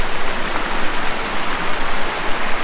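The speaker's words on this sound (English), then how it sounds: "Pretty good water flow in it right now. Little series of cascades." Creek water tumbling over a small series of cascades, a steady, loud broadband rush that continues unbroken and close throughout.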